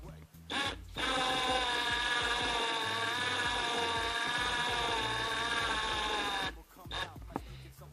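A power drill driving a hook whirs steadily for several seconds at a constant pitch, close and loud, starting and stopping abruptly.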